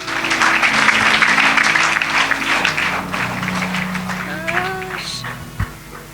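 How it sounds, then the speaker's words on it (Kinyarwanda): A church congregation claps loudly and densely for Jesus, the applause fading midway as a voice rises and speaks over the last scattered claps. "Komera Yesu amashyi."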